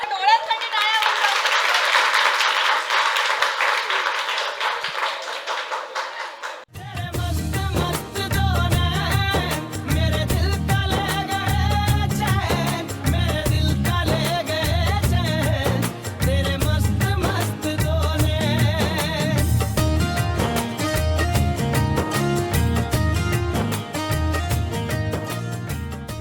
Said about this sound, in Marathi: चला, डोळ्यांसाठी टाळ्या वाजवा.